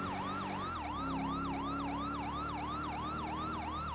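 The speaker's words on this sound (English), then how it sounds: "It's still the standard siren setup." Standard police siren in GTA 5 with the FivePD mod: a steady, rapidly cycling electronic wail over a low vehicle engine hum, loud and continuous throughout.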